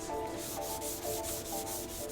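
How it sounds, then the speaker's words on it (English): A wooden top being sanded back by hand with sandpaper in a barn, slow and without power tools, giving steady rhythmic scratchy strokes about twice a second, close and continuous with no talking. "I've finished sanding back the top."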